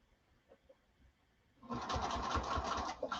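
A sewing machine top stitches a straight line across fabric at a long stitch length. Faint soft clicks come first, then about a second and a half of steady, rapid mechanical whirring.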